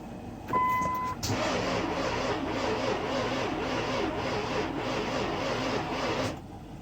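A rebuilt Nissan Infiniti M45 VK45DE 4.5-liter V8 on its first start attempt, a steady loud mechanical churn for about six seconds before it abruptly stops.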